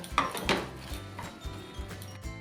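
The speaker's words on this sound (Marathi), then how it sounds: "आता ही पावडर मी घालून घेते मिक्स करून घेऊया" A spoon scrapes and clinks against a pan as milk powder is stirred into beetroot halwa, several irregular close knocks and scrapes with no talk.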